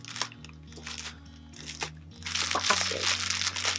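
A plastic packaging bag from a drugstore haul of lip glosses crinkles and crackles close by in bursts, growing denser toward the end, with a faint low hum beneath.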